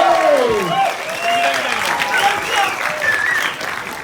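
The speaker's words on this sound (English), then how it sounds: "Please make some noise for Zachary Levi." A theatre audience applauds and cheers loudly at a movie promotion event as a star is welcomed on stage, with whoops and shouts rising over dense clapping.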